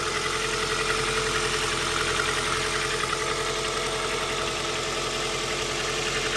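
A warmed-up car engine idles steadily at close range after fuel system repair work, a loud, even rumble with a fine mechanical patter and no voices over it.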